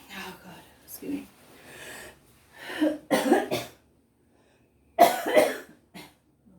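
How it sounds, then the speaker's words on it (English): A woman coughs while cooking curried sausages in a slow cooker, two sharp, close bursts of harsh coughing between stretches of soft, hushed talk. "I'm trying not to cough on camera."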